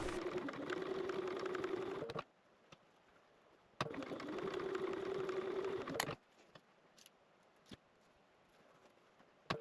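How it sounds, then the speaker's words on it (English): Sewing machine edge stitching fold-over elastic onto mesh at a slow pace with a longer stitch length, two steady whirring runs of about two seconds each, separated by quiet pauses and small handling clicks. "take it to your machine, go slow, use a longer stitch length, and just edge stitch that fold over elastic down to the top of your mesh"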